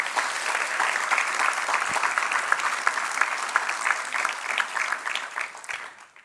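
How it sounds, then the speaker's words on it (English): A room of civics workshop attendees breaks into dense, lively applause at an event with New York's Mayor de Blasio, sustained for several seconds before tapering off at the end. "Give each other a round of applause"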